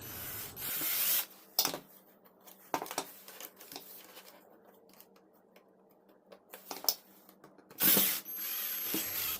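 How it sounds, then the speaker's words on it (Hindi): Screws are driven to fix the IR receiver sensor PCB onto the panel of an LG 32 inch LCD TV. Close, intermittent scraping and ratcheting bursts are separated by quieter gaps, with no talking. "अब मैं पैनल की इस IR रिसीवर सेंसर वाली PCB को स्क्रू के माध्यम से सेट कर देता हूँ।"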